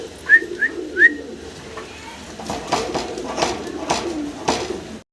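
Magpie pigeons offered for sale coo and whistle in short, close calls at the start. Softer bird and handling noises follow, with faint background murmur.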